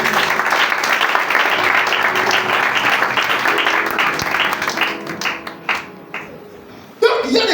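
A church congregation breaks into loud, sustained applause that thins into scattered claps and fades over several seconds, before a voice cuts in sharply near the end.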